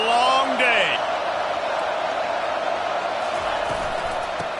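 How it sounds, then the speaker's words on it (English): Stadium crowd in a college football game: a steady, full roar of cheering fans filling the background while a commentator talks over it. "This crowd, full throat, spreading the eardrums and letting them know it's going to be a long day."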